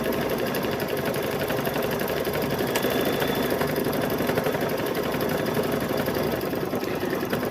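A Brother Luminaire 2 sewing machine stitches a patchwork gnome quilt, a fast continuous mechanical whir held at steady loudness throughout.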